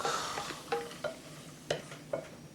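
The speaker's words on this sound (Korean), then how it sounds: "노릇노릇하게 볶아주세요" Potatoes seasoned with salt and pepper stir-fry in a pan with a soft sizzle. A utensil scrapes and clinks against the pan in a few distinct, quiet strokes.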